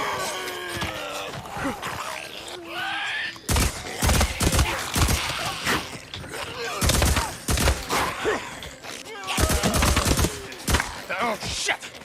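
Gunfire in the Days Gone video game during a fight with enemies: loud, irregular bursts of shots in clusters, mixed with game groans and clatter, following a quieter opening stretch.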